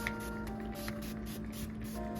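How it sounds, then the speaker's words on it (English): Butter cooking spray hissing onto bread for a torta, a few short pulsing bursts of aerosol spray up close, with no one talking. "I'm just gonna spray it, generously spray it."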